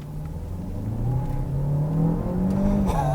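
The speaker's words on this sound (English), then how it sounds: "I'm going to show you the acceleration capability of the Tiggo8 Pro Turbo." A Chery Tiggo 8 Pro turbo SUV engine roars as it accelerates hard, its pitch climbing steadily through the gears, loud and close from start to finish.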